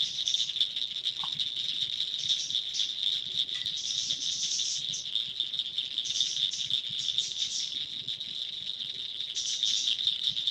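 A dense, continuous chorus of cricket frogs, many overlapping clicking calls merging into a steady high rattling trill with no gaps.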